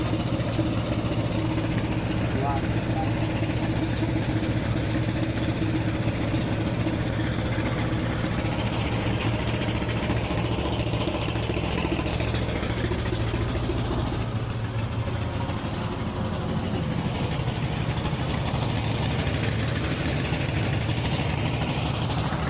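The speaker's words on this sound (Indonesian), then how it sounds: "Mereka pompa pakai mesin alkon." A water pump engine on a river boat drones steadily and loudly for the whole stretch, a constant low rumble with vibration and no break.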